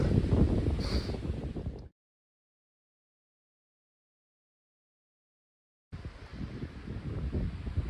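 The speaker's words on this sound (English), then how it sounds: "Weather up here sucks. There's snow coming in from here. It's windy." Strong mountain wind with incoming snow buffets the microphone in a loud, rough roar, cutting out to silence for several seconds before gusting back in just as hard.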